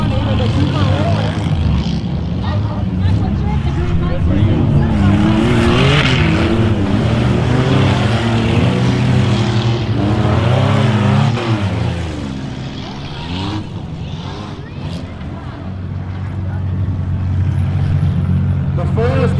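Race cars ice racing on a frozen track, engines revving and roaring loudly with shifting pitch as several cars run together, under steady commentary talk.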